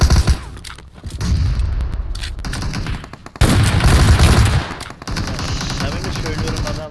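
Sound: gunfire in PUBG Mobile video game

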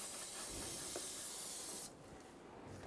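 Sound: spraying brake parts cleaner from a can

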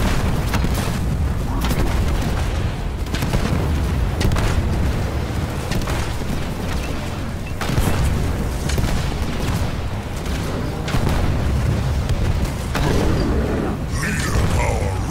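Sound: explosions as base is under attack, Halo Wars 2 video game

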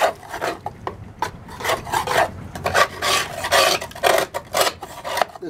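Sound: scraping buildup off a Toro mower

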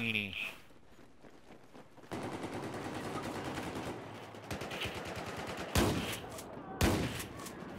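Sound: gunfire in a shooter video game

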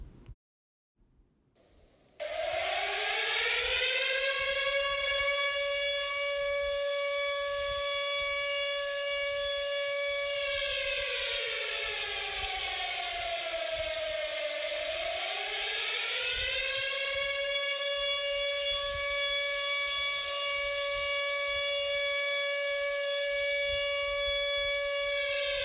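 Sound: civil defense all clear siren

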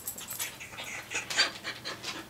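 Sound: dog panting

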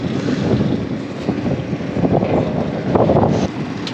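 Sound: wind

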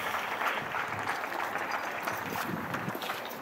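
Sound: applause for the Armenian caucus

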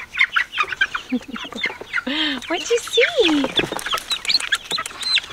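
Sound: chickens clucking on homestead

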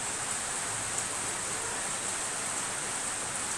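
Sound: heavy rain

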